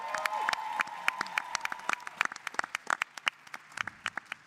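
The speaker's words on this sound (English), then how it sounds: "give them a round of applause" Scattered applause from a small audience at a Black Caucus panel, with sparse, uneven claps spread across the clip and a brief tonal sound near the start.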